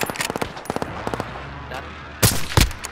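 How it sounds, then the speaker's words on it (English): Call of Duty gunfire: quick rattling bursts of automatic shots, then two heavier, louder blasts near the end, close by, with a player's voice in the background. "Oh, somebody shooting at us."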